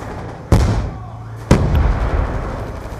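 Gunfire in Call of Duty Black Ops 2, two loud, sharp shots about a second apart, each leaving a ringing tail over a steady game background, no talking.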